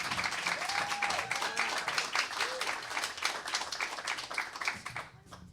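An audience at a radio station green room event claps and cheers steadily for an arriving guest, a dense wash of applause with a few whoops, fading slightly at the end.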